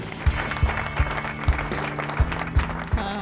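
Audience at an International Women's Day event clapping to welcome a speaker to the stage, with rhythmic, evenly spaced beats and tonal background sound underneath.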